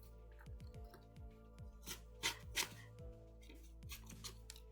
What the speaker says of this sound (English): Scissors cutting paper ASMR.